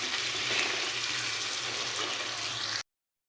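Onions with sugar sizzle steadily in a hot pan while chicken is being prepared, a dense, even frying hiss held close and loud for under three seconds before cutting to silence.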